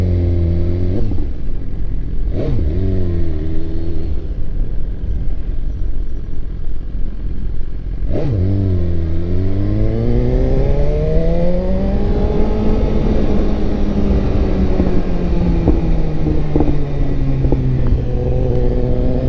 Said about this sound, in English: With the supermoto in the cut right here.